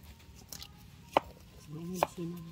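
A plant corm is cut into pieces for propagation, two or three crisp, close chopping knocks of a blade through firm tissue.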